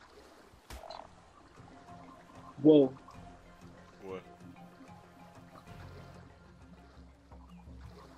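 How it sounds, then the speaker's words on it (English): A frog croaks in Ark Survival Evolved during a fight with fish, two short throaty bursts a second apart amid quiet watery game ambience, with a brief exclamation from a player. "The frog is fighting those fish down there"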